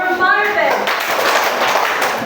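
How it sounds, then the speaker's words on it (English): Students in a classroom give three claps in a quick run of sharp hand claps, with a teacher's voice heard briefly just before them. "Give 3 claps for"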